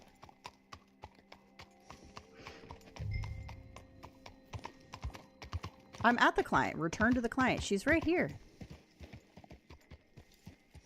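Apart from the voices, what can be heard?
horse hooves in video game Red Dead Online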